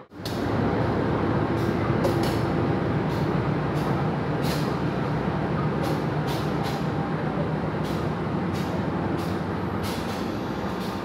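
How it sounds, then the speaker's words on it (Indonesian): CC201 diesel locomotive hauling the Progo passenger train from Pasar Senen toward Lempuyangan, a steady loud rumble with repeated hissing bursts, heard close from on board. "kali ini lokomotifnya menggunakan CC201 9218 depo induknya Cirebon Prujakan"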